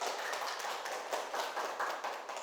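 A classroom of students clapping together, a continuous rattling patter of hands that sounds somewhat distant and modest in level, without speech.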